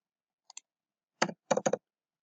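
Small, crisp mouse clicks in water network modeling software: two faint ticks, then a firmer single click and a quick cluster of three close together, with silence between.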